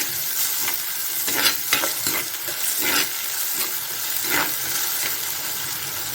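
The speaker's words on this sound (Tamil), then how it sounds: "தக்காளியோட பச்சை வாசம் போகிற அளவுக்கு நல்லா வந்து வதக்கிக்கோங்க." Ground tomato sautéing in a pan, giving a steady close sizzle with periodic stirring scrapes and clinks, moderately loud and alone without talk.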